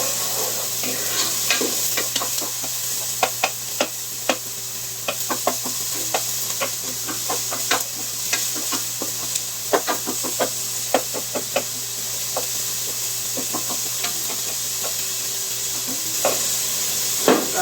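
Roughly chopped onion sweats in a pot, giving a steady soft sizzle and hiss with frequent light clicks and knocks from stirring, close and continuous.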